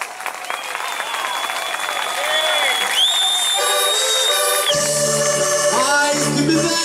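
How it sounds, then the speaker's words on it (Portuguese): Audience applause at a desgarrada, a traditional Portuguese improvised sung duel, in Arcos, Vila do Conde. A dense crowd clapping holds steady for the whole stretch, loud and close, while sustained musical tones ring through it. "Criou uma salva de palmas."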